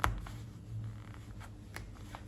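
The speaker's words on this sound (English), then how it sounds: "let me go ahead and cut this end" Scissors cut through fabric for a long top, with a few soft, separate snips spaced out over a quiet room.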